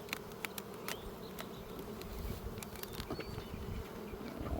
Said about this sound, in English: There's bees coming after you.